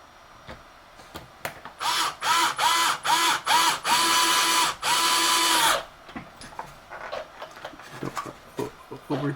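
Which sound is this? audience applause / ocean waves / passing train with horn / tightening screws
tightening screws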